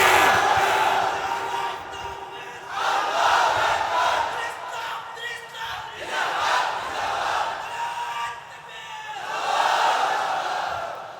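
A large crowd at an outdoor religious sermon gathering in Narayanganj shouts in unison, answering a takbir call with several loud, swelling waves of chanting that rise and fall.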